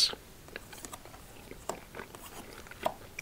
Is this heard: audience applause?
no